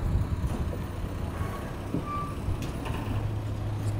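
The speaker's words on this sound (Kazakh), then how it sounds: "Мына чоң машиналар келип" Large trucks arriving at a market, diesel engines rumbling close by with reversing beeps and the hiss of air brakes amid a busy background.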